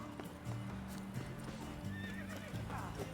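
Horse hooves clip-clop steadily amid a busy noisy video game battle scene, with a horse whinnying partway through, fairly faint and distant.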